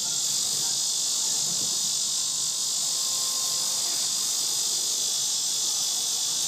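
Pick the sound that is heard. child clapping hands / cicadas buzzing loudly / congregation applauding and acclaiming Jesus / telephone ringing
cicadas buzzing loudly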